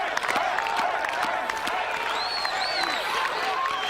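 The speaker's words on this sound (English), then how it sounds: "And this clapping won't do him any harm at all." A crowd at the 1992 World's Strongest Man competition clapping in rhythm, dense steady applause with whistles and cheers rising above it, under a commentator's voice.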